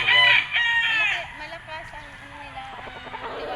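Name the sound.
kelso gamefowl rooster crowing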